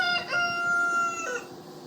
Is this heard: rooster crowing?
yes